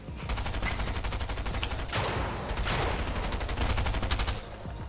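Rapid bursts of Fortnite gunfire crackle almost nonstop, dense repeated shots layered with whooshing sweeps, loud and busy through the whole stretch with no talking.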